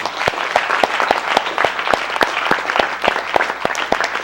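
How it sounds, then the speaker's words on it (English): A crowd claps steadily in a warm burst of applause, many hands at once, fairly loud and continuous with no voices on top. "Give Mr. Who another hand clap with me"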